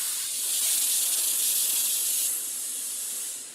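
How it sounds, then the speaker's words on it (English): A Lorstar steam iron releases a steady, close hiss of dry microfine steam that stays strong for a couple of seconds, then eases slightly softer before tailing off. "with my dry microfine steam"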